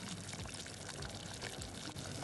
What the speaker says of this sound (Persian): قاشق چای خوری لیمو رو اضافه میکنیم به شربت.